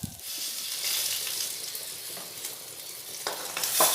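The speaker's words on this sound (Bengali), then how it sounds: "এইভাবে আমি সব মাছগুলো ভেজে নেব।" Pieces of katla fish shallow-frying in hot oil for a Bengali doi katla curry, a steady close sizzle with brief sharper spits and crackles near the end, no voices.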